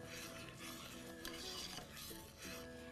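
Sambar being stirred in a pot with a touch of jaggery or brown sugar, a soft, faint scraping and gentle simmering bubble with light clinks of the spoon, no talking.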